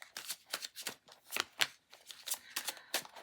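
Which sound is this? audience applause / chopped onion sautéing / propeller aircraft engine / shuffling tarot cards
shuffling tarot cards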